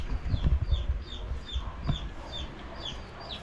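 Chicks and chickens cluck and peep close by in a repeated chirping pattern, over low rumbling handling noise that is loudest at the start.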